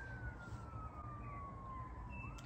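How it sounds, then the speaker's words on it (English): Ambulance or police siren far off on the outskirts of a city, a faint single wailing tone slowly falling in pitch over a low steady background hum. "An ambulance or police siren in the distance."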